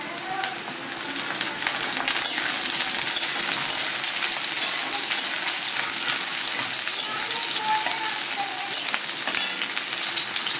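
Green chillies and garlic fry in a pan with a continuous, fairly loud crackling sizzle, busy and rain-like, holding steady from start to finish.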